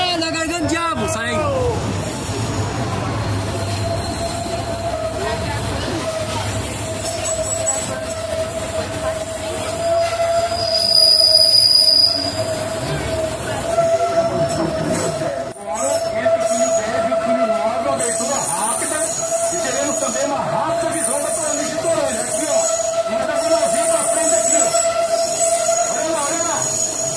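A Brazilian passenger train rolls through a tunnel, a loud steady rumble of wheels on rail with a sustained tonal squeal and enclosed roar throughout, and voices call out over the din.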